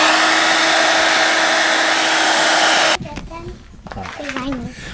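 A hairdryer blows loudly and steadily for about three seconds, then cuts off, and people talk.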